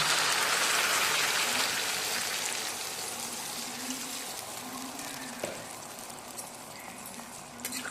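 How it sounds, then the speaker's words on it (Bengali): Water poured into a Bengali katla fish curry in a cooking pot, a steady broad splashing pour that starts strong and gradually thins to a softer trickle over several seconds, with no talking. "আমি এখানে পরিমাণ মতো জল দিয়ে দেবো।"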